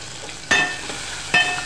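Tomatoes are dropped into a hot pan for a black urad dal, setting off two sharp bursts of sizzling frying close by, each fading quickly, with no talking.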